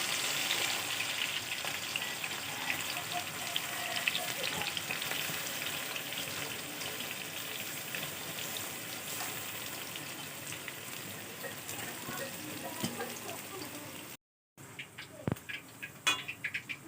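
Onions frying in oil for birista, a steady dense crackling sizzle that holds close and even for most of the stretch, then cuts out briefly before resuming with a few sharper pops.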